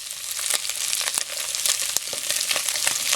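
Garlic and onion sautéing in hot oil with pork set aside in the pan, a steady close sizzle broken by scattered sharp crackles and pops, no voices.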